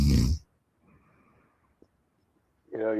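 A preacher at a Sunday church service imitating a cartoon snore, a single slow, raspy, breathy drawn-out snore framed by his speaking voice just before and after.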